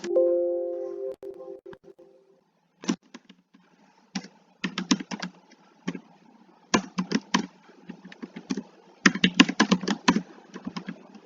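Typing on a computer keyboard, close and clear, in clustered bursts of rapid key clicks separated by short pauses, with a brief tone at the start.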